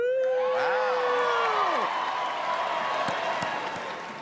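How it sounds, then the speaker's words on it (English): A large crowd at the America's Got Talent stage show cheers and applauds loudly, with whoops and shrieks rising over steady clapping that gradually eases off. "They're probably going to cheer even louder."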